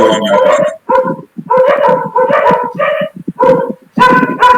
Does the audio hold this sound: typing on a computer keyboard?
no